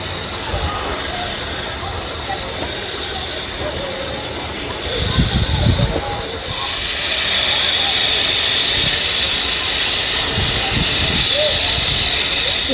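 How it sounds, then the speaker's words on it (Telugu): Potato pillows dropped one by one into hot frying oil, a steady loud sizzling hiss that swells and stays strong in the second half, with a voice talking over it at times. "ఇప్పుడు ఆయిల్ వేడెక్కింది. నేనైతే ఇప్పుడు ఆయిల్లో వేస్తున్నాను ఒక్కొక్కటి."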